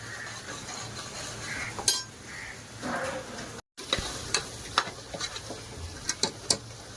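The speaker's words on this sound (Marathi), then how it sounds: "आता हे आपण छानपैकी भाजून घेऊया तेल सुटेपर्यंत चांगलं भाजायचं" Ground masala paste fries in oil for chicken curry, sizzling steadily while a spoon stirs and scrapes the pan with occasional metallic clinks, close and fairly quiet.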